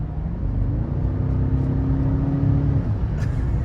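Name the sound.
car with V8 engine driving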